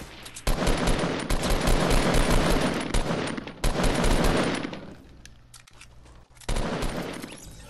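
Gunfire in the video game Fortnite: sustained rapid automatic bursts, loud and close, in two long volleys separated by a short lull, with no voices.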